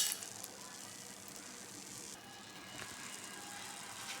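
Byadgi chillies, coriander, cumin and mustard seeds frying in hot oil, a steady, soft hiss and crackle that continues throughout without a break.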